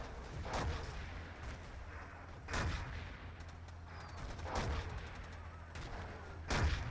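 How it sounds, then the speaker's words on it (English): Artillery fire in the Battlefield 2 video game lands in a series of heavy booms, several spaced blasts with rumbling tails over a constant low background, fairly close and loud. "that artillery from Santi was really, really nice"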